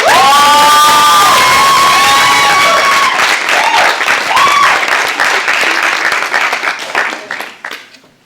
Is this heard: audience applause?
yes